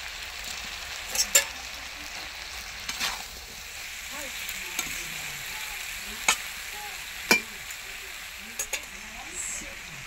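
Thankuni leaf paste fries and is stirred in a pan, a steady soft sizzle punctuated by scattered sharp clicks and scrapes of the spatula against the metal.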